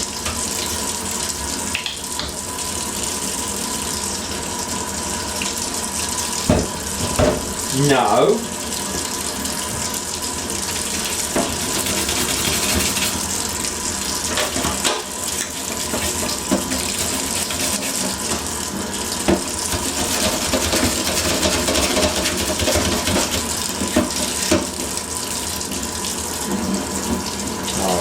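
Hot water, around 60 degrees, runs steadily from a Bosch machine, a continuous close gush with a brief splashing burst partway through and a background hum.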